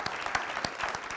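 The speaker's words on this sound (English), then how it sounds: "all of our panelists deserve a round of applause" Applause for a panel of speakers at a discussion event on Egypt and Turkey, a dense steady clatter of many hands clapping with a few louder claps standing out, lasting only a moment with no talk over it.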